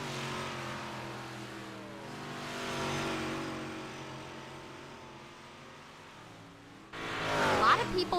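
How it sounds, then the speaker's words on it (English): Dirt-track race car, the number 76 machine, running practice laps at Lanier National Speedway, its engine droning and swelling at moderate distance before a louder burst near the end, with an announcer talking over it. "Chad Rude out on the track right now in that 76 machine"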